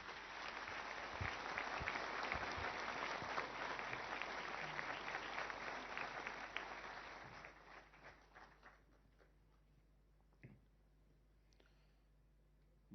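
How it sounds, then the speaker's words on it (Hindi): Applause for Prime Minister Narendra Modi at a Kargil Vijay Diwas event, a large crowd clapping loudly and steadily for about seven seconds, then thinning to scattered claps and fading into a quiet hall. "जोरदार तालियों के साथ स्वागत कीजिए माननीय प्रधानमंत्री श्री नरेंद्र"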